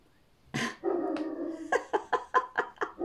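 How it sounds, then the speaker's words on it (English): A dog barks in a sharp run of repeated barks after a longer whining yelp, close and loud, with no talk over it. "And the dog starts barking when I say that."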